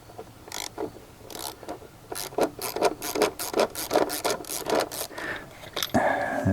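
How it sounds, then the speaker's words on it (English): Coil pack being worked loose and pulled out of the engine of a 2007 GMC Acadia during a spark plug job: a run of close scraping, rubbing clicks in irregular bursts, ending with a louder sustained rasp. "And out comes the coil pack."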